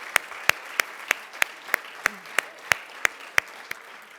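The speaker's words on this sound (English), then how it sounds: "So an applause for the sponsors of this event." Twelve sharp, evenly spaced claps ring out in a steady rhythm, like a single person or a small group clapping together for the sponsors at a book festival's opening ceremony.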